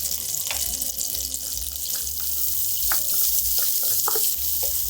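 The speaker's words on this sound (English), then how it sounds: "And now to that, we're gonna add our shallots." Shallots sizzling in a sauté pan of melted butter and olive oil for creamed spinach, a steady hissing fry with a few faint clinks and stirring sounds, no voices.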